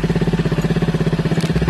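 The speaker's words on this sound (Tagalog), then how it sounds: "So, after naman nun is start natin siya." A Suzuki Raider 150 motorcycle engine idles close by in a steady, rapid pulsing putter, loud and even, with no voices.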